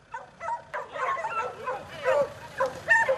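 German hunting dogs yip, whimper and bark in an excited mix of overlapping calls, moderately close, with faint chatter and outdoor noise underneath.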